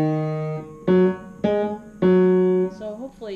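Piano notes in the bass register play a short do-day-do rhythm, three clear sustained tones with a brief trailing note, close and moderately loud with nothing else heard.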